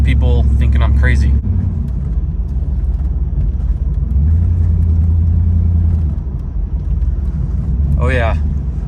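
A 1995 Camaro Z28 drives and swerves on the road. Its loud, close engine gives a steady low rumble that shifts in pitch, with brief voice-like sounds at the start and near the end.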